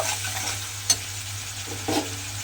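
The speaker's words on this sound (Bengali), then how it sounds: "দিয়ে এবারে খুব ভালোভাবে মিশিয়ে কিন্তু সমস্ত কিছু একসঙ্গে একটু কষিয়ে নেব" Spice masala mixed with whisked yogurt is stirred and sautéed in a pan for an eggplant and moong dal dish, giving a steady close sizzle with a couple of brief spoon scrapes and no talking.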